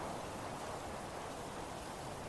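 Steady rainstorm in the video game Three-Fourths Home, an even hiss of falling rain that stays constant and moderately quiet throughout, with no thunder or voices.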